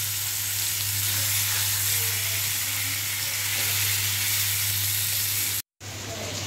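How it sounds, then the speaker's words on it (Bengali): Koi fish fry in hot oil with a loud, even, close sizzle that holds throughout, with a steady low hum underneath and a brief dropout near the end. "দেখেন কই মাছগুলো আগে আমি একটু ভেজে নিচ্ছি"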